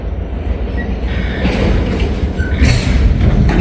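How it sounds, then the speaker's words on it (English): A CSX freight train approaches on the main line, a loud, steady low rumble of wheels and rail noise that swells slightly with faint squeals, heard outdoors with no talk. "Sounds like we got a train coming on the main"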